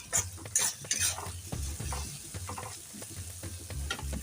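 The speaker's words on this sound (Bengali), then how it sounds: "দিয়ে আমি ভালো করে একটু নেড়ে চেড়ে নিচ্ছি" Vegetables with mustard-seed tempering sizzling over high heat in a pan for dalia pulao, stirred with a utensil in quick repeated scrapes and taps over a low, steady frying hiss, fairly quiet and close.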